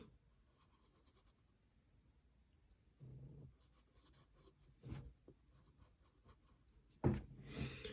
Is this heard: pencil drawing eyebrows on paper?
yes